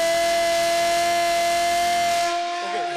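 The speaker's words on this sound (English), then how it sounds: "That's the voice coming from the siren." A civil defence air raid siren sounding during a mock security drill, a loud sustained steady wail with a strong tone that continues unbroken and then drops away near the end.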